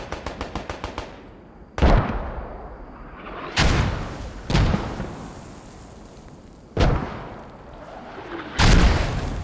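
Mortar rounds land in a multiplayer war video game: a burst of rapid gunfire opens, then five heavy booms strike at irregular intervals, each loud and close with a rumbling decay.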